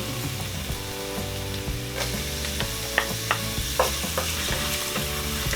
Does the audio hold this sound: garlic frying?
yes